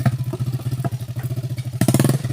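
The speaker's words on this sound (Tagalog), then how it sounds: "Motor nila Rusi 125 lang. Pero yun ang umaahon at bumababa dito sa kabundukan." Rusi 125 motorcycle on a mountain trail, its small engine chugging in a close, loud and steady pulsing rhythm that swells briefly near the end.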